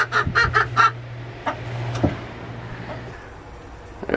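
Chickens cluck up close in a quick burst of four sharp calls, then give a few scattered softer clucks over a low steady hum.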